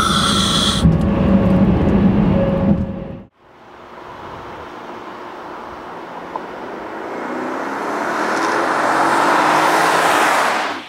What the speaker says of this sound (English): It sounds like exhaust fans going on in the back.